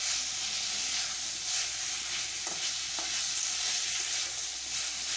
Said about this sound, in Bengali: দিয়ে দিলাম মশলাটা আমি কাঁকড়াটার সঙ্গে ভালো করে মিশিয়ে নিলাম